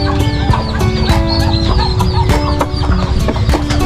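Fighting cocks and hens cluck repeatedly up close, loud and busy, with short rooster calls mixed in and no voices.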